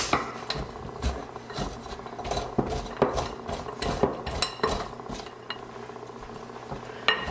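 Hazelnuts are being stirred through melted chocolate in a bowl, giving repeated clinks and scraping rubs of a utensil against the bowl at an uneven rhythm, close and fairly quiet with no talking.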